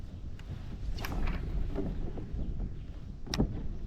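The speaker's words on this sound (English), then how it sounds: "It's windy out here today." Wind buffets the microphone in low rumbling gusts out on open water aboard a Bonafide PWR 129 kayak, with a couple of brief knocks and splashes.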